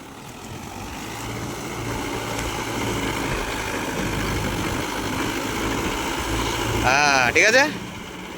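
A Mahindra Yuvo Tech Plus 585 DI 4WD tractor engine runs steadily while working in deep mud, a continuous low rumble throughout with a short louder burst near the end, and a voice speaks briefly over it.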